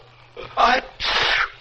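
A single sneeze, a sharp two-part burst of breath and voice, close and fairly loud against a quiet room with faint background hum.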